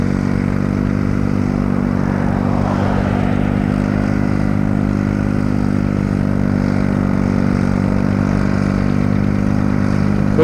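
An antique John Deere tractor drives by at a tractor plow day in Champlain Valley, giving a steady, loud, low engine drone with a throbbing pulse that holds for the whole stretch.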